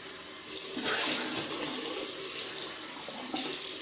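Warm water runs from a tap in a steady rushing stream while someone rinses off after a razor shave, close and continuous, with no talk.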